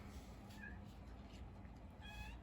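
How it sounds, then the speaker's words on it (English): A cat meows softly in the background, a few brief faint calls heard over a steady low room hum with no talk. "do you hear my cat meowing in the background?"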